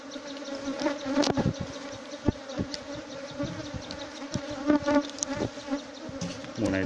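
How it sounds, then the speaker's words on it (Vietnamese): Dense honeybee swarm buzzing loudly and steadily around an opened hive during colony splitting in the June season, a continuous angry drone with occasional louder passes of bees flying close by. "Dù đàn ong nó rất dữ"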